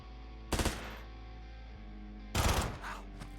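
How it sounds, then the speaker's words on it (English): Two bursts of rapid nail gun fire from dual-wielded industrial nail guns in the video game Quasimorph, each a short loud rattle, separated by a quiet stretch and followed by a fainter trailing burst. "You're now dual wielding industrial nail guns."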